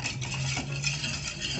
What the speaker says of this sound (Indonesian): Sekarang kita aduk-aduk sampai tercampur semua dan mulai mengental.